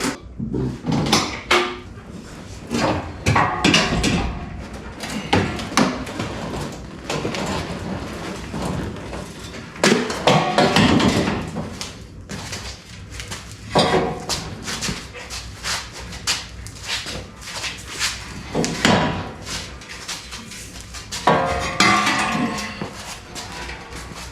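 Jeep JKU roll cage being worked off the vehicle: irregular metallic clunks, scrapes and knocks in close, uneven bursts, with heavy breathing and no talk.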